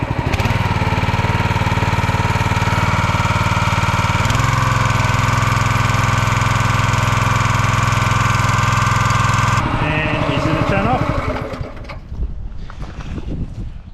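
The engine on a RedGum log splitter idles while warming up, a loud, steady mechanical drone that holds for about ten seconds, then shifts in tone and fades down toward the end.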